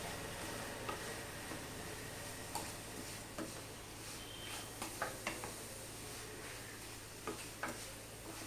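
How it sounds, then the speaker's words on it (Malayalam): Grated coconut mixture, for a banana snack, is stirred in a pan: a quiet, low sizzle with a series of soft, irregular ticks and taps from a spoon against the pan, no voices. "തേങ്ങ ഇട്ട് നമുക്ക് നന്നായിട്ടൊന്ന് മിക്സ് ചെയ്യാം."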